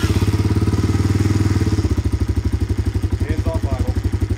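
A cold Honda Big Red ATC 250ES three-wheeler engine idles with the choke off, a steady close, loud single-cylinder putter whose pulse shifts slightly partway through, with faint clatter over it.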